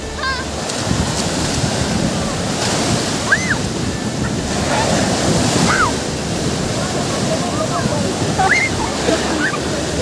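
Large waves break continuously on a Lebanese sea beach, giving a loud, unbroken wash of surf and wind noise with faint voices briefly rising above it.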